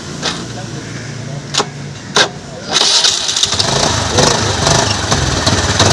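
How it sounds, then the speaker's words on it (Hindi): A Honda Activa scooter is self-started after its self-start problem was fixed: a couple of sharp clicks, then the engine catches and settles into a steady, fairly loud idle. "अभी आपको गाड़ी को स्टार्ट करके दिखाते"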